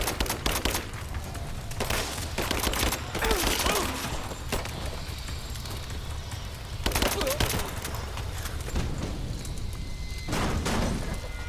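Dense video-game gunfire from Rise of the Tomb Raider: loud, continuous bursts of automatic fire and shots with booming impacts, rising in clusters throughout, with shouted voices mixed in.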